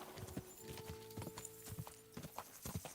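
Horse hooves clip-clopping in a steady trotting rhythm while riding in Kingdom Come Deliverance 2, close and fairly quiet, with faint tonal game sounds in the background.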